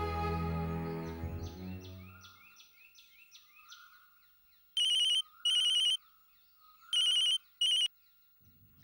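Telephone ringing in a Tamil serial scene: after a fading musical sting, two pairs of bright electronic rings sound, each burst short and loud, separated by silence.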